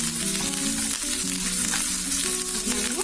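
Curry leaves dropped into hot oil with dried red chillies for a chutney tempering, the stove just switched off, crackle and sizzle steadily for a few seconds with a melodic tone running underneath and no talking.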